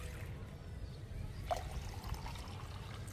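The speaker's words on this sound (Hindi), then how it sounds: "हम इसमें दो गिलास पानी को ऐड कर लेंगे" Water poured from a glass into curd to make a homemade plant fertilizer, a soft steady trickle and splash close by, fairly quiet with a low background rumble.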